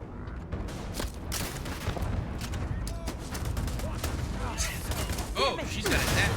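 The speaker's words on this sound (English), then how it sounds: "Oh, she's got a zappy gun. Shoot everything!" Rapid zappy energy-gun fire in a Starfield firefight, loud bursts of shots and impacts layered over combat noise, with voices talking partway through.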